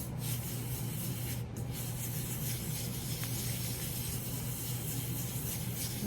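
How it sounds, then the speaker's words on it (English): Paper is rubbed by hand across its whole back against an inked styrofoam printing plate, making a close, continuous soft scrubbing hiss with steady even strokes and no speech. "Make sure you rub the entire back of it."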